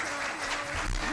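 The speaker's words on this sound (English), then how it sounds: "Round of applause." Audience applause at the Murrow Symposium at WSU Vancouver, a brief, dense burst of many hands clapping with a voice speaking over it.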